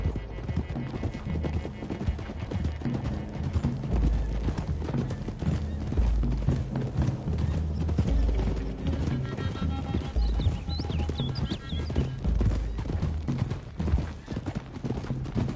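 Steady clip-clop of several horses' hooves at a brisk gallop in Red Dead Redemption 2, close and continuous, with creaking tack and a brief whinny in the mix.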